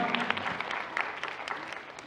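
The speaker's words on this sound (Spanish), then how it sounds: "Un fuerte aplauso, chicos." Audience applause fills a short stretch with steady clapping and a few sharper claps, moderately loud and continuous throughout.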